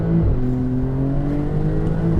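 A 2025 Porsche 992 Turbo 50 Years accelerating hard, its engine note climbing steadily through the revs with a brief gear change near the start, loud and close from inside the car, no talking.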